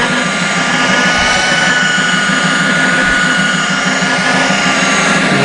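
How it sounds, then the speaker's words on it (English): A belt sander fitted with 80-grit paper runs steadily across a vanity cabinet, giving a loud, continuous broadband whir with a faint low rumble throughout and no talking. "I'm using 80 grit on this belt sander."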